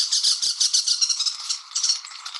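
A grass green tanager calls in the Andes mountains of Colombia, giving a run of loud, harsh, buzzy squawks in quick rhythmic bursts, close and clear with nothing else heard.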